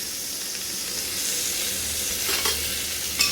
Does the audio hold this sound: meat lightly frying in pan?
yes